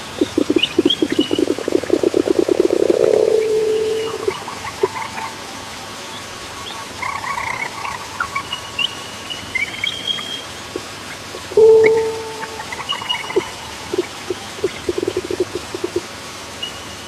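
Synthetic-sounding chirps and thin whistled tones come in scattered short phrases after a low buzzy drone fades at the start.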